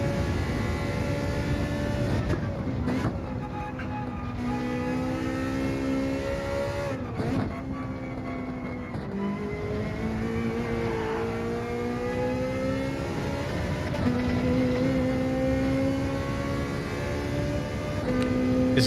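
A Ferrari Gr.4 race car engine lapping Suzuka in Gran Turismo 7: a steady, loud, close engine wail rises and falls with repeated gear changes and throttle lifts across the lap, with no voices.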